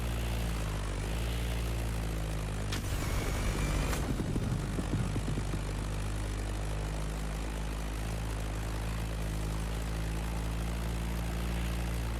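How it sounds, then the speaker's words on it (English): Propeller engine of a Beechcraft Staggerwing biplane drones steadily in a driving-and-flying racing game, a continuous low hum with a brief louder rumble near the start, no voices. "That Beechcraft Stagger Wing is truly a beautiful piece"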